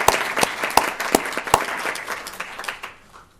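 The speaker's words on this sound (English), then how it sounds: "how about we give them all a round of applause?" A council meeting audience gives its staff a brief round of applause, a moderate burst of clapping with a few sharp individual claps standing out before it fades within a few seconds.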